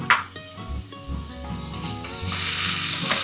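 Chopped onion fries in a pan for Pune-style misal, giving a soft sizzle that swells into a loud, hissing fry in the final second.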